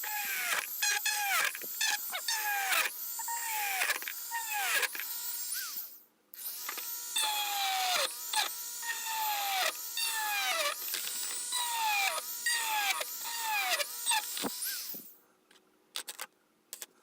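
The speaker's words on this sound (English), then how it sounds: "So I'm gonna drill holes in here" A high-pitched rotary tool drilling holes in a plastic worm farm container whines in repeated short bursts, each pitch sweeping down as it bites in, close and fairly loud.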